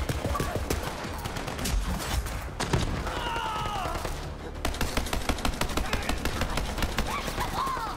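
Sustained turret fire in Borderlands 3, a fast string of sharp shots hammering on with little pause, mixed with other battle noise and a few whooshing effects.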